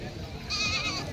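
A small goat gives a short, high bleat at a busy livestock market in Jawala, Aundha Nagnath taluka, Hingoli district, heard close by over a murmur of background chatter.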